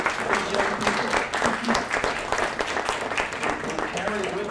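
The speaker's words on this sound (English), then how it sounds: "We can just stand and applaud to these young people" A standing campus lecture audience applauds visiting students, sustained clapping with sharp individual hand claps thick throughout, while a voice speaks over the applause.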